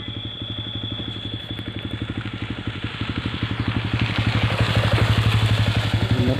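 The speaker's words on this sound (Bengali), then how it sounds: "মোটরসাইকেল যাচ্ছে" A motorcycle rides along a road beside a bridge where earth-filling work is under way, its engine putting out a fast, even throb that grows louder and closer over several seconds, with no talking.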